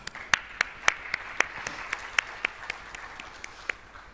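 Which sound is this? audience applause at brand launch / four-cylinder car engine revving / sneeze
audience applause at brand launch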